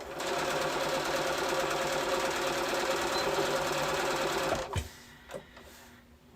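A sewing machine runs steadily, stitching a straight hem on Veracruz challis fabric for a summer muumuu dress, a continuous close whirring buzz that stops abruptly near the end, followed by a few faint handling thumps.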